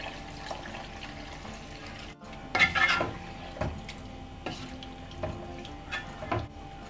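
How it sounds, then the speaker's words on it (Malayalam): Water splashes and pours into a metal pot of duck curry in a few short bursts, with light clinks of the pot, fairly close and otherwise quiet. "ഇനി ഇത് വേവാൻ ആവശ്യമുള്ള വെള്ളം ഒഴിച്ചു കൊടുക്കാം."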